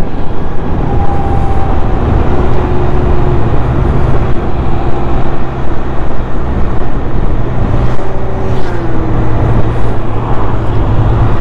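Continuous loud engine and road noise from a Can-Am Spyder motor tricycle cruising along the B3 road, with steady wind rush and a few faint passing tones, with no talking.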